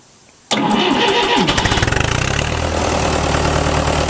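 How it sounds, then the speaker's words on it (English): A Fordson Super Major tractor engine cranks on the starter and catches after a quiet start, its loud, rapid knocking settling into a steady, close rumbling idle. "We'll give it a little throttle. Alright, we'll hit the starter."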